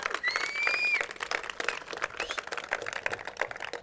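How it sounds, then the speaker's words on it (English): A crowd applauds at an outdoor groundbreaking ceremony for the SunZia energy project in New Mexico, producing a steady patter of clapping that begins loud and gradually thins out, with a brief whistle near the start. "So let's give a round of applause for America doing big things."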